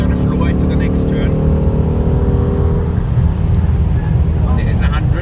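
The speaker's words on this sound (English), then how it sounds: "we're gonna floor it to the next turn" A car engine is floored at full throttle, giving a loud, close rising roar with stacked harmonic whine that climbs, then shifts into a rougher rumble, while a voice talks over it.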